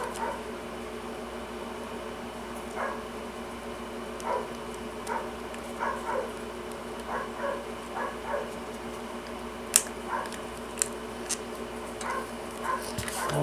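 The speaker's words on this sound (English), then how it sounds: "Sorry for the background noise of the dog barking." A dog barks in the background of an indoor room, a scattered series of short, faint yelps and woofs over a low hum, with a couple of sharper clicks near the end.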